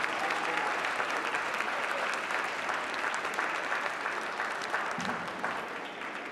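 An audience at a fifth grade arts celebration applauds steadily for the instrumental and vocal directors, a dense, even clapping that holds for several seconds and tapers slightly at the end.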